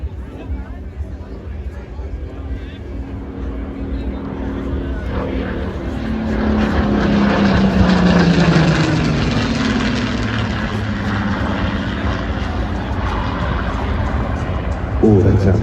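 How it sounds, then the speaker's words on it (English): A Rolls-Royce-engined Spitfire propeller aircraft flies past at an airshow in Ayr, Scotland, its engine drone swelling to a loud, sustained roar midway with a falling pitch as it passes, while a commentator talks throughout. "So the Rolls-Royce Spitfire that we're seeing in front of us"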